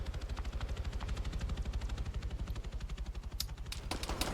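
In the Arma 3 military game, a helicopter's rapid rotor thump pulses steadily throughout while bursts of gunfire crackle over it, including a sharper volley near the end.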